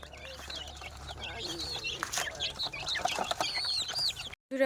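Chickens cluck and chatter close by over a busy, noisy background, with some birdlike calls mixed in, continuous through most of the clip.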